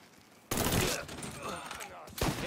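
Burst of gunfire in the Mafia 3 video game, opening abruptly into a dense, loud volley that trails off, then a second sharp burst near the end, with shouted voices mixed in.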